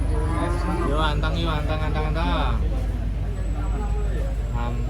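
Giant contest cattle unloading from a truck moo loudly and close, with drawn-out bellowing calls over the rumble of road traffic while people talk nearby.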